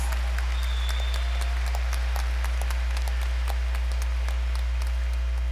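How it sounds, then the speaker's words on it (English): Audience at a nursing pinning ceremony applauds the graduating students: rapid, even clapping from many hands runs throughout over a strong steady low hum. "Please honor these students with a round of applause"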